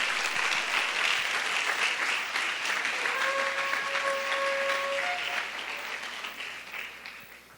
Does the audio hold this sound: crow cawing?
no